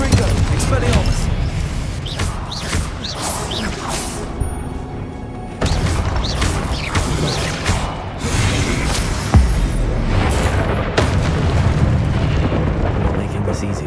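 Confringo fire spell blasting stone statues in Hogwarts Legacy, a run of loud booming explosions and crashing debris over a dense rumbling game soundtrack, with heavy impacts recurring across the scene.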